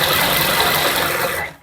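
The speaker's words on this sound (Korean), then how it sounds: "노루발 하나 이걸로 스티치 하겠습니다" A sewing machine with a presser foot runs a seam on a hooded trench coat, giving a close, loud continuous whir that cuts off abruptly near the end.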